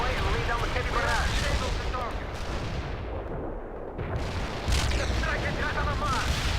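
Heavy artillery barrage from the World in Conflict strategy game, a dense, steady roar of booms and rolling blasts. It eases briefly midway, then swells again, with in-game voices talking over the bombardment.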